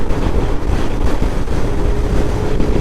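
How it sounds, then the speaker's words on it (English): Strong wind roars steadily and loudly against the microphone while a Lexmoto XDV 300cc scooter rides at motorway speed, with a faint engine hum beneath the constant rush. "I do really hope you can hear me, because it's so windy in here right now."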